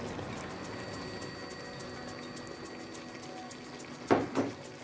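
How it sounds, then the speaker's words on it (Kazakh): Chopped onion fries together with meat in a pan, giving a steady, even sizzle that hisses throughout, with a brief louder burst of crackling near the end; no one speaks. "толықтай қуырылғанша етпен бірге қуырамыз"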